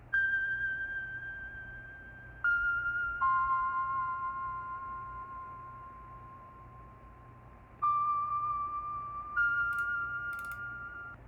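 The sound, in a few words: vibraphones in a music sample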